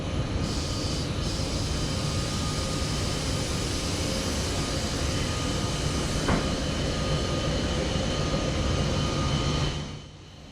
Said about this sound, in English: Initially we'll be hauled by this MÁV-Start Class 470 electric loco